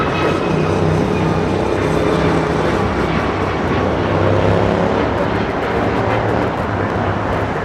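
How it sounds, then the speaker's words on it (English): A United Airlines Boeing 737 MAX 9 takes off from Los Angeles International Airport toward Houston, a loud, continuous jet engine roar with a dense low rumble, heard close and steady throughout. "This is United Airlines 1571 taking off to Houston Intercontinental on the MAX 9"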